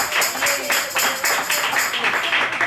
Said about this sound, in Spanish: Denle un aplauso a esa pareja hermosa